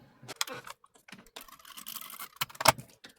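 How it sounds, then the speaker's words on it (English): Small crackling taps and scratchy rubbing come from a tape runner laying adhesive along a folded card, quiet and close with uneven bursts over a few seconds. "I'm going to attempt to use my tape on this."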